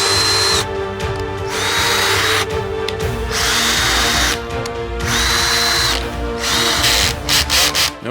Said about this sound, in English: let's see if I can get this drill to work on all of these different kinds of batteries